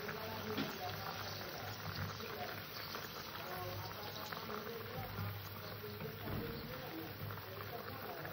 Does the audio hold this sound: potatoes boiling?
yes